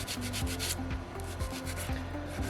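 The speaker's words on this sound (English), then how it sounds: "I'm just kind of letting it rest on the stone and holding it in place as I kind of scrub back and forth" Sandpaper scrubbing back and forth across a small soapstone Moai carving, a steady close rasping rub with regular strokes throughout and no talking.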